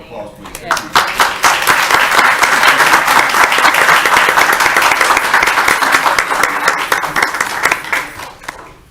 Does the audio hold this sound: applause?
yes